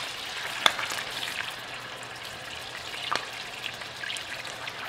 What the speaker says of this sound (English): the first thing I'm starting off with is a pan that has 1 stick of butter in it, and I have that sizzling